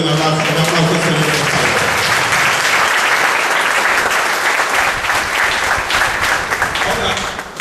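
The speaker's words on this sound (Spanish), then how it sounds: "denle un aplauso al Señor" A church congregation claps together loudly and continuously at a Sunday morning service, a dense, sustained round of applause from start to finish.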